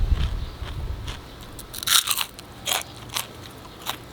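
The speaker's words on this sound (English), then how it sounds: "I'm going to test it using pork cracklings" Crunchy pork cracklings (chicharon) are bitten and chewed up close, giving several sharp, crackling crunches at irregular intervals over a quiet background.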